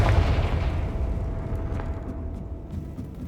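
A Confringo blasting spell bursts in Hogwarts Legacy, a deep booming explosion at the start that rumbles and decays over a few seconds, with faint crackling debris afterward.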